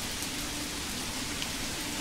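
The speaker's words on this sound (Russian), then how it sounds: "Дождь поливает, и наша церковь строится." Steady rain falls in the Manor Lords video game, a dense, even hiss of drops on the surrounding ground and roofs, constant and unbroken with no voices over it.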